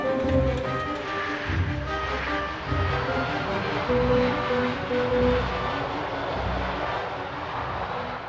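An aircraft on approach, a steady roaring engine drone with a faint tonal whine, moderately loud and continuous, with no talking.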